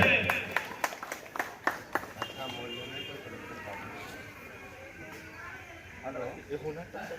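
Applause at a school ceremony honoring a legislator during a goddess Saraswati idol worship festival: a burst of sharp claps in the first two seconds, then fading under steady talk from a speaker on a microphone.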